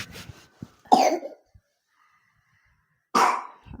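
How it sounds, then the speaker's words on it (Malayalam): A child coughs twice, each a short, rough burst close by, separated by a couple of seconds of near silence in a quiet home. "ഇടയ്ക്കൊരു ചുമയാണ്."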